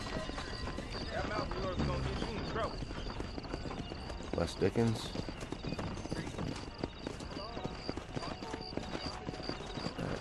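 Horse hooves clip-clop at a steady pace amid outdoor ambience in the video game Red Dead Redemption, with a brief whinny and a voice speaking over them.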